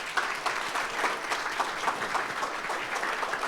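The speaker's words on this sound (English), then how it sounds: "let's have another round of applause for Steve" An audience at a leadership talk claps steadily and loudly for a speaker, dense applause with no voices heard over it.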